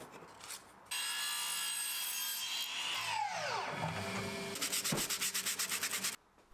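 Thin 3mm plywood being cut into trim strips with a power saw: a sustained loud whine that drops in pitch as it bogs down, then a quick run of rapid rhythmic cutting strokes before stopping.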